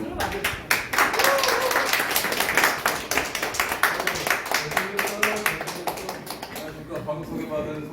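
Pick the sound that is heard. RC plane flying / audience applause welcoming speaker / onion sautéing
audience applause welcoming speaker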